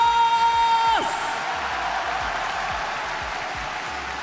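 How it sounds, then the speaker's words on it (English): An audience applauds at an esports fighting-game tournament, the Street Fighter League World Championship. Broad, steady clapping from a large crowd follows a brief sustained tone that fades out, and the applause carries on evenly to the end. "please give a big round of applause"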